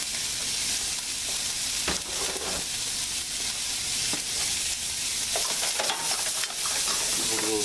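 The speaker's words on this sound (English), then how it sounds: "So we're going to saute these here. I have a little oil in the skillet there." Onion and garlic cloves sauté in a little oil in a skillet, giving a steady, close frying sizzle throughout with a few scrapes and clicks of stirring on top, no talk.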